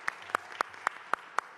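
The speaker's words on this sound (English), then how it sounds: "Let's give them a round of applause." Applause from an audience at a recreation center dedication in New York City, heard as six sharp, evenly spaced claps close by.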